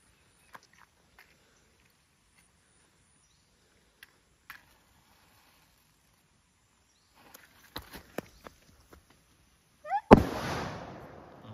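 A hand-thrown firecracker bomb going off outdoors in a village, a sudden loud blast followed by a decaying rumble after a long near-silent stretch with a few faint clicks and taps.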